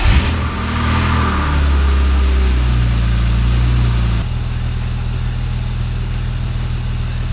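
A BMW E36 engine running after a water pump repair, revving up briefly at the start and then settling into a steady, loud idle hum that continues evenly to the end.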